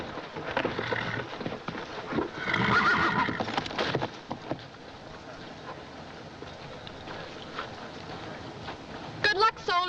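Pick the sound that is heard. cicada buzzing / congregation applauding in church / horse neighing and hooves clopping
horse neighing and hooves clopping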